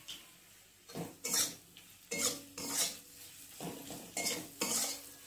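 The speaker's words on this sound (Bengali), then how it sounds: "হলুদ দিয়ে একটু ভেজে নিলাম।" Onions frying with turmeric in a pan, stirred with a metal spatula: a series of scraping, clattering strokes against the pan comes in bursts with short pauses, up close and moderately loud, with only a faint sizzle beneath.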